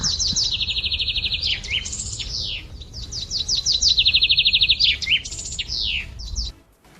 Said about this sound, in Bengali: ময়না ময়না পাখি বলে কথা